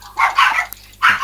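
A dog barks loudly and close by in three sharp bursts separated by short pauses, with no talk over it.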